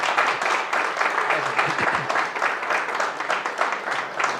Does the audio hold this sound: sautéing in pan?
no